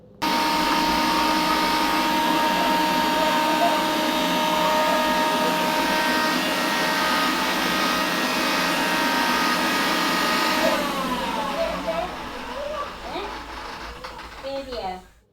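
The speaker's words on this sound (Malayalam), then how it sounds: "ആളെവിടെയാണെങ്കിലും നമുക്ക് കണ്ടുപിടിക്കേണ്ടപ്പോൾ ജസ്റ്റ് ഒന്ന് മിക്സി ഓൺ ചെയ്താൽ മതി." A kitchen mixer grinder runs with a loud, steady high-pitched motor whine for about eleven seconds, then winds down and stops, leaving faint clatter and murmuring voices in a home kitchen.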